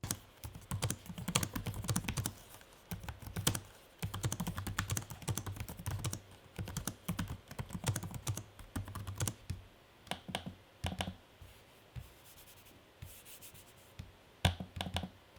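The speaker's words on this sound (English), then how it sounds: "a sample of what the trackpad and keyboard sound like" Rapid clacking bursts of typing on a Lenovo Legion 5i laptop keyboard, mixed with softer trackpad taps and clicks, close and crisp with short pauses between runs and no voices.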